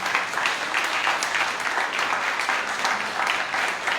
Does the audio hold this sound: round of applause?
yes